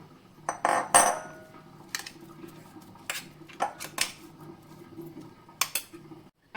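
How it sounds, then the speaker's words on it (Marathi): A spoon scrapes coarsely ground green peas out of a steel mixer jar into a bowl in a home kitchen, making a series of short metallic clinks and scrapes, close and moderately loud. "आता हे आपण एका बाउलमध्ये काढून घेऊया"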